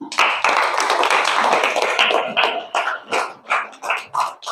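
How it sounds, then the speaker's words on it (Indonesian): Classroom applause in a junior high Indonesian language lesson, a burst of many hands clapping that thins into scattered separate claps and taps toward the end. "beri tepuk tangan"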